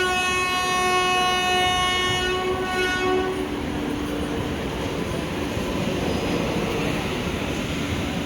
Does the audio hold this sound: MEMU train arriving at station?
yes